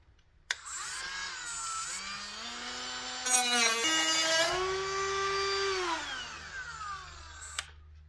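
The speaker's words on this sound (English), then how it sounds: "A little cordless Dremel here." A small cordless Dremel rotary tool grinding metal while porting a Honda WX15 water pump, a loud, high whine that rises and shifts pitch as it bites, running steadily for about seven seconds with no talk.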